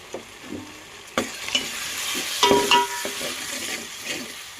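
Onions, ginger paste and grated coconut fry in a pan with a continuous sizzle, broken by stirring scrapes and a few sharp metallic clinks of a spoon against the pan.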